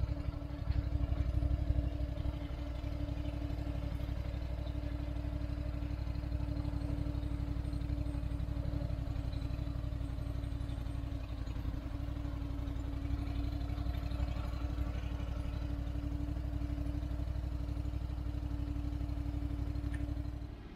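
An engine idles steadily at close range, a constant low drone with a faint hum, briefly louder at the start, working ground at an 1886 watermill site.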